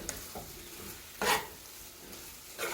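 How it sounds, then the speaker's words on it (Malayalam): Shrimp gravy is stirred in a pan, with a low simmering hiss broken by a few sharp scraping strokes of the spoon, the loudest coming near the middle. "ഇതൊന്ന് നന്നായി ഇളക്കി വെക്കാം"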